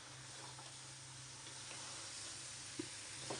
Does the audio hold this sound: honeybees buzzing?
no